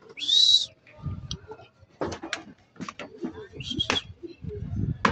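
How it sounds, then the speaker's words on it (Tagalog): A live pet bird from Catarman, Samar gives a high whistling call, then short cooing bursts mixed with rustling and handling noises close up. "Ayan yung aking ibon na si Checkered White Feather"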